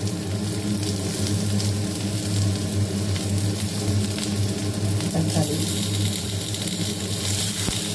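Sliced large onions sizzle steadily in a little oil in a kadai, a continuous close frying hiss with low hum underneath throughout.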